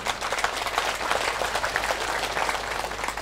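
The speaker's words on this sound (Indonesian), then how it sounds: "tepuk tangan tidak terlalu kuat karena belum makan siang" An audience at an Islamic sermon by Ustadz Abdul Somad gives brief, fairly soft applause, a dense patter of many hands clapping steadily with no pauses.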